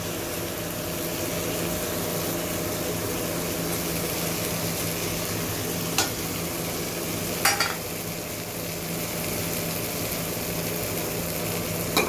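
A paste of fried poppy seed and cashew sizzles steadily in a prawn curry, a dense continuous frying hiss with a couple of brief clinks from stirring, close up and without talk.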